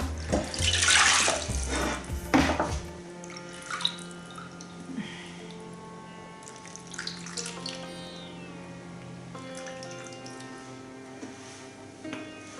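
Water is poured into a fish tajine while cooking, a loud close splash and trickle at the start that fades into soft drips and faint kitchen sounds.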